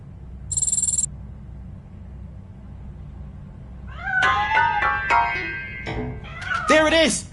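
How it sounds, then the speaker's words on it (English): A cat meows in the video game Robocop: Rogue City. Several drawn-out, wavering cries come in the second half of the clip, fairly loud and close, with a short high electronic tone near the start and a low steady background hum. "That cat must be hiding inside."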